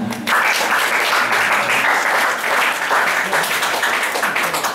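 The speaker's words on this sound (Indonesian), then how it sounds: "Tepuk tangannya mana?" A large hall of students at a Ramadan boarding-school gathering breaks into loud, sustained clapping after a brief voice at the start, holding steady until the end.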